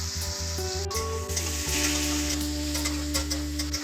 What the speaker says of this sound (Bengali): এটা ততক্ষণ ভাজবো যতক্ষণ না হালকা সফট হচ্ছে।